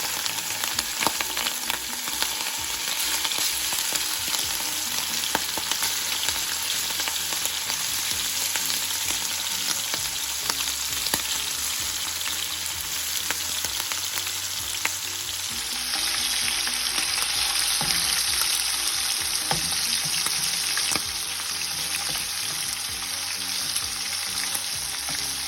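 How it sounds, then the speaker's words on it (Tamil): Steady, dense sizzle of shrimp frying in a pan at close range, with occasional stirring clatter and a change in the hiss's tone partway through, continuing without talk. "இந்த இறாலை நாங்கள் பொரிச்செடுத்து கொள்ளுவோம்."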